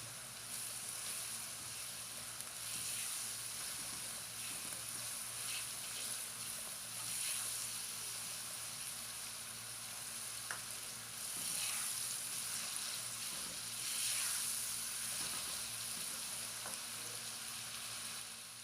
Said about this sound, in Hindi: अब हम इसके अंदर ऐड करेंगे अदरक और लहसुन जो चॉप की हुई है। इसको भी तकरीबन हम 3 से 4 मिनट तक प्याज के साथ फ्राई कर लेंगे।